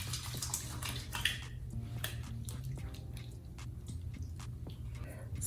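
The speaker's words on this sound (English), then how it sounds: "so I'm gonna add a little more water to it." Water trickles and splashes softly into a thick facial cleanser, with small wet squishes and drips close by and a faint low hum beneath.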